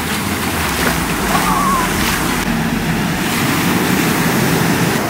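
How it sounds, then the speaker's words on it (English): Ocean surf on a beach in Mexico rolls in as a constant loud wash of breaking waves, with gusty wind buffeting the microphone throughout. "the waves look almost even more intimidating"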